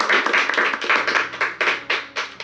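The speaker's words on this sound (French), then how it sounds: "on peut applaudir" A group of people clap together at a pancake party, producing a close, steady run of rhythmic hand claps with a few uneven beats over about two seconds.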